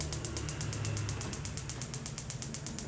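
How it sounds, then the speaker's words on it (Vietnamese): The igniter of the oven burner on a Paloma gas stove with an enamel top clicks in a rapid, even series of faint ticks, several per second, with a low mechanical hum underneath. "Ngay sau đây em sẽ bật lửa lò nướng cho các bác xem."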